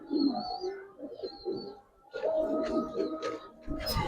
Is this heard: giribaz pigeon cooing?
yes